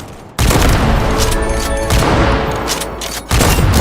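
Heavy rifle fire from a Valorant match, loud booming shots with dense ringing tails, one shot landing early and another near the end.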